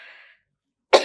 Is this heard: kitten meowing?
no